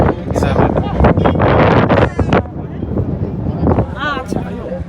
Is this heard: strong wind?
yes